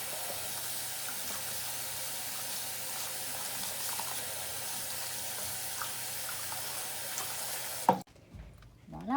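Clean water poured steadily into an aquarium filter until the sponge is covered, a continuous close splashing rush for about eight seconds before it abruptly stops, followed by a few faint handling sounds.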